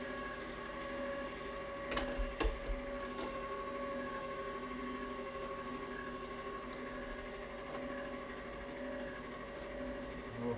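An electric juicer runs steadily while juicing spinach, giving a constant mechanical whir and hum with a few brief knocks early on as it works through the greens.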